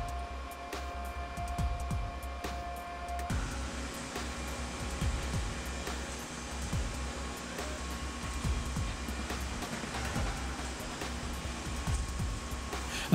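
Inside the Scuderia Toro Rosso factory machine shop, where custom metal parts and carbon fiber molds are made, a steady loud mechanical hum with tonal whine and scattered clanks fills the space throughout, with no talk.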